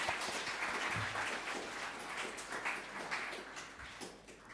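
An awards-night audience applauds a festival win, with dense, sustained clapping from a crowd of many hands that holds steady throughout.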